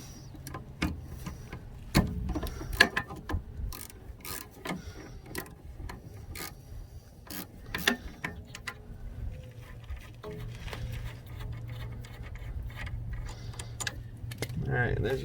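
A hand ratchet loosens the rear brake caliper bolts on a 2006–2010 VW Jetta Mk5, giving bursts of quick clicking with a few sharp knocks, close up, while a person talks at intervals.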